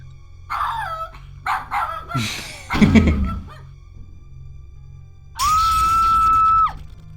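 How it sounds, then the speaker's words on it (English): A dog barks and yelps in King's Quest 7 as a series of short, loud cartoonish barks and whines. A sustained tone follows near the end. "with the dog barking noises at the end?"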